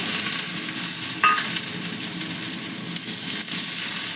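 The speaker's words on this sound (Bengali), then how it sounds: "পেঁয়াজটা একটু ভাজাবো দেখো পেঁয়াজটা একটু ভাজা হয়েছে এবার এর মধ্যে এই যে টমেটো কুচনোটা দিয়ে দিলাম" Onion and chopped tomato fry loudly in a hot pan, a dense continuous sizzle with occasional stirring scrapes, close and with no voices.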